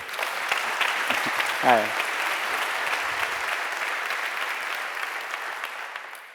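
Sustained audience applause at a Spring Framework keynote for a speaker, a broad, steady clapping from a large hall audience that fades toward the end, with a brief spoken greeting partway through.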